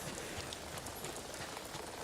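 Steady rain in Ghost of Tsushima, a continuous even hiss of falling drops that holds at a constant level throughout, with no voices over it.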